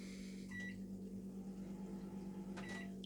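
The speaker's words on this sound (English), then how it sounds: "Microwave sounds like it works." A microwave oven in a 2007 Toyota Hiace hightop camper van hums steadily with a low drone, and two short faint beeps sound near the start and end.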